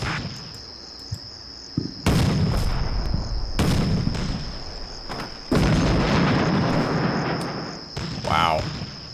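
Artillery fire mission in the video game Combat Mission Shock Force: several heavy booming blasts follow one another, each with a long rumbling tail, over a constant high electronic tone.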